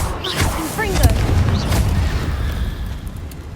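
A Confringo blasting spell explodes in Hogwarts Legacy with a loud, sustained booming roar. Battle noise and voices run through it, with no clean gap.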